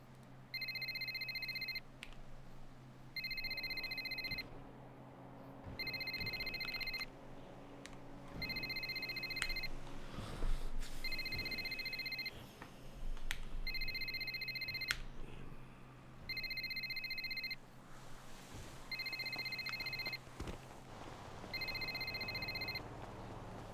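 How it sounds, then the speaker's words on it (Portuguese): Telephone ringing in repeated evenly spaced bursts of a bright electronic trill with short pauses between, over a low background hum and faint room noise. "tem um telefone tocando aí ou tem um telefone tocando aqui?"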